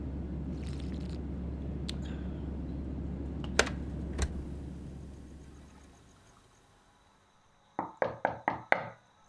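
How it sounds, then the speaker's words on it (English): A series of about five sharp knocks on a bedroom door lands in a quick, even burst near the end, after a steady low hum fades to near silence. "I crept back to his door and I knocked."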